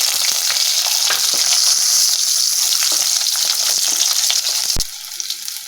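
Small shallots fry in hot sesame oil in a kadai along with mustard seeds, fenugreek, fennel and cumin, giving a loud, continuous crackling sizzle that drops in level near the end.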